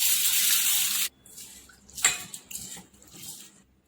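Pigeon pea (toor) dal being rinsed in water in a home kitchen: a loud second of running, splashing water, then softer sloshing and swishing of the lentils as they are washed.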